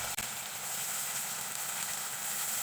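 Ground dried puti fish, mixed with green chilies, fries in hot oil with a steady, even sizzle, close and constant, with a brief knock near the start.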